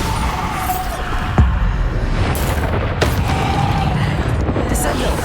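Bombarda spell explosions in Hogwarts Legacy, sharp blasts and bangs cutting through a dense, loud wash of game action noise, with a few distinct impacts spread across the stretch.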